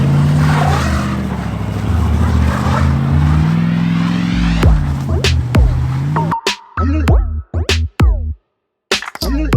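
A straight-piped Rolls-Royce limousine with an LS V8 swap roars loudly and rises in pitch, then drops into sharp, cracking exhaust pops and bangs separated by gaps of near silence.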